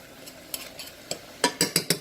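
Zucchini cooks down in Country Crock spread with garlic and onion powder in a pan, a soft sizzle under a series of sharp utensil scrapes and taps that quicken into a cluster near the end, close and without talk.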